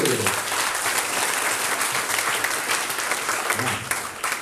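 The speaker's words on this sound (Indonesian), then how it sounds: "Tepuk tangan yang meriah dulu." Steady, dense applause from a school audience at an SMK vocational school presentation, a full crowd clapping loudly and continuously with faint voices mixed in.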